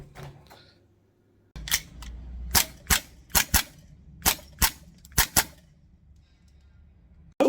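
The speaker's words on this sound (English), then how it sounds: "as you can see from the shooting, just a few BBs just to make sure it works perfectly fine." Several sharp, snappy shots from a B&T APC9K gas blowback airsoft gun firing BBs, in two quick bursts of evenly spaced cracks with short pauses between them, close and loud over a quiet room.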